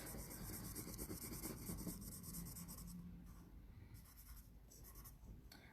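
A marker scratching and rubbing across paper in an art class, close and continuous with short strokes and brief pauses in the second half, and no talking.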